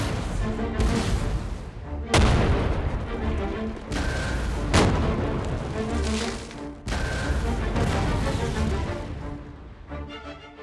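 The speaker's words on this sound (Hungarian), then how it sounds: "A tüzérségi párbaj során a magyar ágyúk kerekedtek fölül" Artillery cannon fire in an 1848 battle at Pákozd, with heavy booming blasts about every two to three seconds over a dense, continuous rumble of battle noise, loud and close, with no voices heard.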